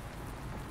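Rain pours down in the Farming Simulator 19 video game on a wet ploughing day, a steady, dense hiss, constant and fairly soft, with no voices.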